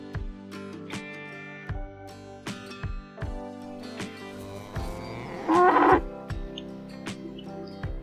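A cow lowing several times, deep drawn-out moos that swell and fade in a recurring pattern, close and clear with a louder, rougher call near the end.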